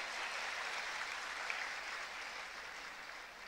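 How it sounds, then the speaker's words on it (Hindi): An audience claps to welcome guests at a chief minister's public event in Madhya Pradesh, a steady, fairly faint wash of applause that sounds distant and continues without a break. "आप भी ताली बजा के स्वागत करो"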